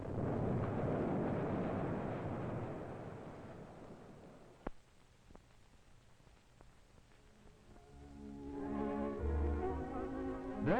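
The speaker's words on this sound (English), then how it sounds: "Now let's look at another heavy blast viewed from the bottom of the pit." A heavy blast of broken ore in a copper open pit mine, heard from the pit bottom: a loud rumbling roar that fades into a few sharp cracks and quiet, then swells again with rumbling over a low tone.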